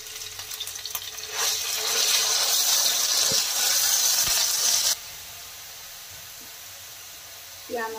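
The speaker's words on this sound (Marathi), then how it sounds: "कांदा आणि खोबरे बारीक शिजवून पीठ टाकत आहे" Onion and grated coconut frying in oil as flour is stirred in for Kolhapuri misal: a loud, steady sizzle for about four seconds that then drops to a quieter simmering hiss.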